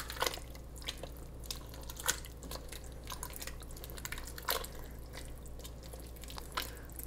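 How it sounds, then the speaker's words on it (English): Vegan spiced chili is stirred in a pot, making soft, irregular wet scrapes and small clicks over a low steady hum, faint and close with no talking. "So now we can kind of give this a stir."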